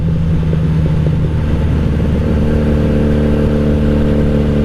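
A 1997 Honda Magna VF750C cruiser with a Vance and Hines exhaust rumbles steadily while riding on a chilly morning, a loud, close, constant engine drone with deep low harmonics and no voices.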